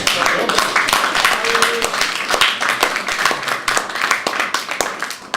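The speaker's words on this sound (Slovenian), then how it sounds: "dajmo en aplavz Domu." Lively applause from a church congregation at a gospel gathering, with distinct clapping hits in an uneven rhythm under and around voices speaking and calling out.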